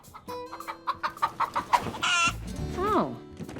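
A chicken clucks in a quick series of short, bright pulses, followed by a louder squawk and a rising call, mixed with other sounds in a TV comedy scene.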